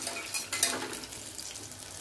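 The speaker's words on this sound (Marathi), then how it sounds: "शेंगदाणे थोडंसं भाजून घेऊया." Peanuts roasting in a pan with curry leaves, green chilli pieces and spices give a faint, close sizzle with light scraping stirs and a few soft clinks.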